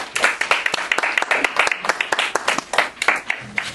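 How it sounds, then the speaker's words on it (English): An audience applauds a young music group at an entertainment show, steady loud clapping from many hands filling the whole stretch without any speech. "Let's give these guys a hand of applause"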